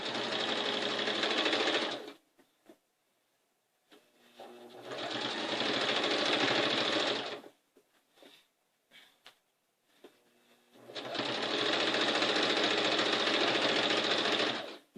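A sewing machine stitches a one-fabric quilt top, running in three steady bursts of a few seconds each with quiet pauses between, close and loud, with a cat nearby.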